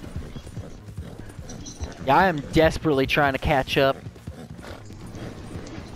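Horse hooves clip-clop steadily in Red Dead Redemption 2, a continuous galloping rhythm at moderate level running beneath a voice, which talks over the middle of the stretch.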